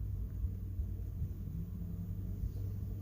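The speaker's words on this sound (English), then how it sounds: "if you hear cars in the background, I'm actually relaxing at the park today" Distant traffic at a park makes a faint, steady low rumble in the background, with no distinct passes standing out.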